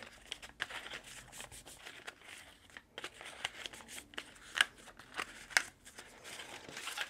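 Paper for a Halloween mini craft album is folded and burnished, giving soft crinkling and rustling with sharper crackles and scrapes in irregular bursts, close and fairly quiet, with no talking.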